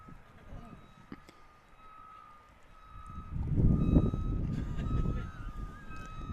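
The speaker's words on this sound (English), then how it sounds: "You guys might be hearing the beautiful drone of a truck backing up right now." Truck reversing beeps ring out steadily while the truck backs up near a baseball field during a game, a thin repeating tone over rumbling engine noise and scattered crowd sounds.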